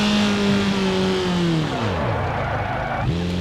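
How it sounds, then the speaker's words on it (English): A BMW E30 in the BeamNG Drive driving game brakes hard and its wheels lock up: a steady engine tone sweeps down sharply, with a loud tire scrub underneath and a brief rise again at the end. "the car just locks up. Even though it's supposed to have ABS applied to it, it does lock up"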